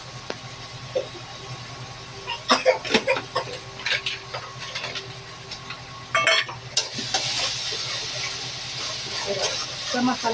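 Masala gravy is stirred and sautéed in a pan, giving a steady sizzling hiss broken by scraping, clattering strokes of a spoon against the metal.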